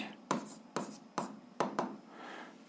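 A pen writing out an algebra equation on paper: a handful of quick, close scratching strokes in short bursts, faint and with no talk.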